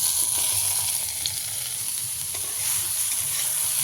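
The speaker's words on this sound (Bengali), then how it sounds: "এবার আমি এখানে এই মেথির শাকগুলো দিয়ে দেবো।" Aubergine pieces already fried red in a pan sizzle and crackle steadily as fenugreek leaves are added and stirred in, a close, continuous frying hiss with no talk.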